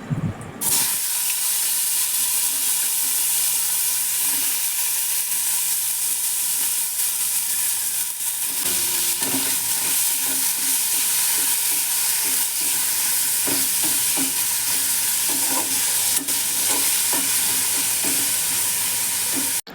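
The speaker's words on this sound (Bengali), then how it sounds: "তেজপাতা আর জিরে ভাজা হয়ে গেলে ওর মধ্যে দিয়ে দেবো একে একে কেটে রাখা সব সবজিগুলো" Chopped vegetables fry in oil with cumin and bay leaf, giving a loud, continuous close-up sizzle with steady stirring scrapes throughout, and no voices.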